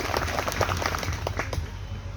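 A crowd claps steadily at an evening cultural programme honouring martyrs in Ramsanehighat, Barabanki, the applause dense and moderately distant, filling the space evenly.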